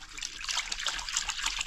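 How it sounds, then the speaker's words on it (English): Dirty water rinsing off a race car's air filter and its filter wrap, a steady close splashing and trickling stream running continuously without pause. "you can see that nasty water coming off of this air filter right there"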